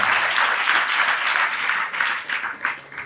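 An audience at a religious storytelling and devotional singing event applauds, a dense, loud wash of clapping that continues steadily and thins slightly toward the end.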